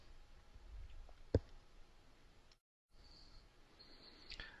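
A single sharp computer mouse click against a quiet background, followed by faint small ticks and a brief dropout.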